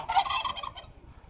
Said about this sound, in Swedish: vad heter de här djuren, de här fåglarna?